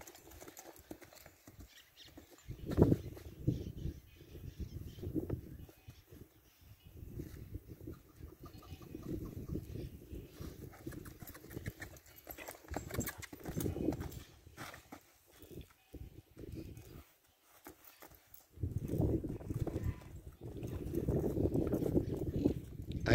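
A horse's hooves clop at a relaxed walking pace in bursts as it is led to a paddock, fading in and out, with quiet outdoor background between steps.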